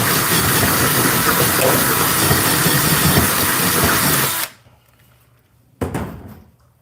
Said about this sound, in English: I'm actually going to put a second rivet in it, since it's, might as well give it the stability.